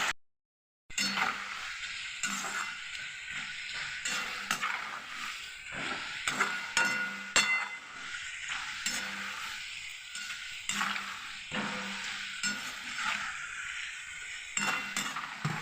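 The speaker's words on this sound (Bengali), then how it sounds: "ভালো করে নাড়াচাড়া করে ভেজে নেবো আলুটা।" Potato chips frying with a soft sizzle while a utensil stirs and clinks against the pan in irregular bursts, close by, after a brief silent start.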